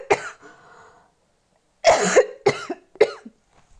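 A person with a cough lasting several days gives one harsh cough, then a pause, then three quick close coughs in a row, with some throat clearing and no words.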